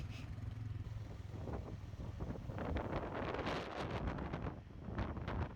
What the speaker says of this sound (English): It was pretty windy in New Zealand at times.